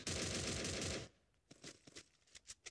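Rapid automatic gunfire from the video game Free Fire rattles loudly for about a second, then trails into a handful of fainter, scattered single shots.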